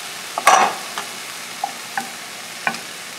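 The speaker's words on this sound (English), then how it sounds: "we'll give it a stir. It's going to cook down a bit" Mushrooms cooking down in a pan, a soft steady sizzle under a few distinct scrapes and clacks of a utensil stirring, close and moderately loud.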